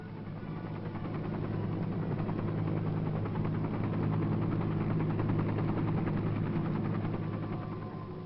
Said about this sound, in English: From its pads, rise the helicopters to evacuate the wounded